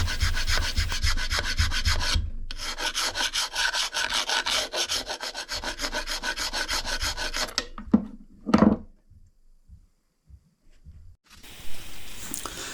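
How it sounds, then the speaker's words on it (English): Steady, dense scrubbing of a Scotch-Brite pad rubbed back and forth over the metal of a Suzuki A100 motorcycle engine, close and continuous, then a few short scrapes and brief pauses near the end. "Just giving it a final rub down with Scotch-Brite and masking it up"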